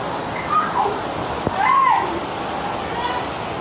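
Rain falls steadily in a wash of dense, even patter, with a few brief bumps and splashes breaking through the constant hiss.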